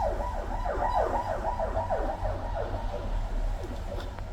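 An emergency vehicle siren sounds outdoors, its wailing tone sweeping up and down over and over in a steady cycle, fairly loud and continuous over a low rumble of traffic.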